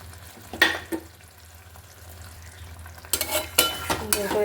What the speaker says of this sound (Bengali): এবার দেবো যে পোস্ত আর সর্ষে বাটা যেটা ছিল